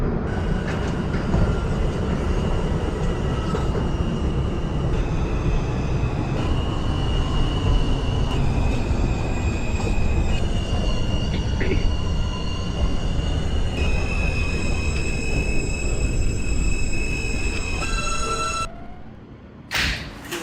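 An R subway train in the openbve train simulator runs steadily near 95th Street and Bay Ridge Avenue, with loud continuous rumble, rising and shifting motor whine tones throughout and a brief thump near the end, no talk heard.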